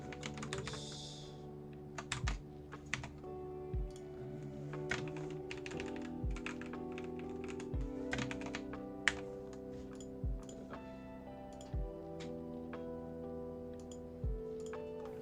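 Steady typing on a computer keyboard while coding JavaScript, a close, continuous patter of quick key clicks with occasional louder strokes, no voices over it.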